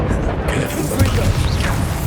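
A Confringo fire spell blasts in Hogwarts Legacy as a loud, dense burst with a mechanical whoosh and impact over busy game sound, heard close.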